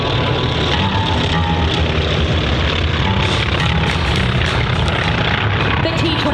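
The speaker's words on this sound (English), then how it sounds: "the Diamond is doing what we call a dirty pass. Now, it's dirty because they have their gear down" Four T-28 Trojan trainers in diamond formation make a dirty pass with gear down at the Sun 'n Fun airshow, a loud, dense radial-engine roar that holds steady throughout.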